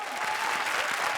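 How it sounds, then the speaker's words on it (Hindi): Studio audience applause on a Hindi comedy show, a dense, steady wash of clapping lasting about a second at even loudness. "जोरदार तालियां"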